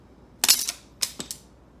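A popsicle-stick exploding boomerang bursting apart, two sharp clattering snaps of wooden sticks scattering in quick succession, close and alone with no talking.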